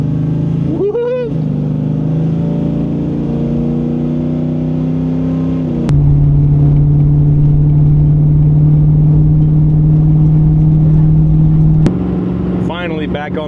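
A car engine drones steadily on the road during a long-distance drive, rising through gear shifts with loud sustained tones, and brief voices appear at the start and end.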